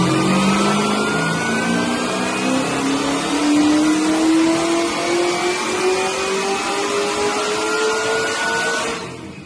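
A Magnuson-supercharged iron block 6.8 litre stroker V8 with Higgins heads in a drift car revs hard and close, its pitch climbing steadily with a whining blower tone over the roar before cutting off.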